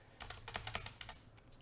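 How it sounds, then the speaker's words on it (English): Fingers tap on a computer keyboard in a quick, irregular burst of about a dozen close, faint keystrokes, heard alone without talk. "I can't type when I'm sick"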